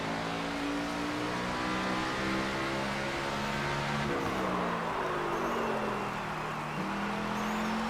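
A NASCAR 25 race car engine drones loudly and steadily at high revs, shifting pitch around mid-lap as it rises again, with no talk over it.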